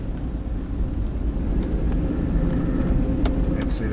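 A car approaching along an empty road, a broad rumbling roar swelling steadily louder from a distance, with faint background noise.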